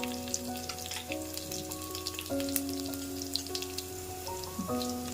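Garlic and tempering spices fry in oil in a pan, a soft steady sizzle with scattered pops, faint beneath music playing throughout.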